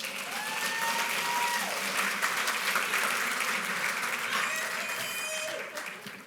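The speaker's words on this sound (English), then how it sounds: "Give her a nice round of applause." Audience at a tech conference stage session gives a volunteer a round of applause, steady dense clapping with crowd noise and a few voices mixed in, tapering off at the end.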